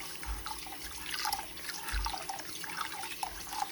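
Rice is rinsed in water in a home kitchen, giving close sloshing and swishing with light splashes and a few low thumps against the bowl, fairly soft and without talk.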